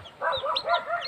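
Soft, rapid clucking from chickens nearby, a short burst of chattering calls with no talk.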